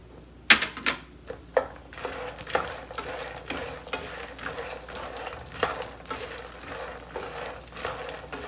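Food roasting in ghee in a pan at home, with scattered clinks and scrapes of stirring over a soft steady sizzle; one sharper knock near the start, no talking.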